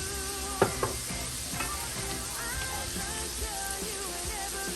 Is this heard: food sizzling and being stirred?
yes